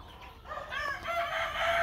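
Chickens cluck and call nearby, a few overlapping bird voices with an outdoor background hiss.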